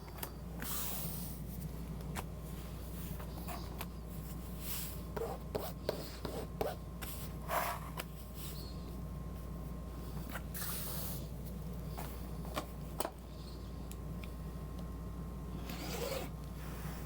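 Scissors cutting folded fabric for a Minerva tote bag, a quiet, close rasping and snipping repeated in short strokes over a steady low background hum.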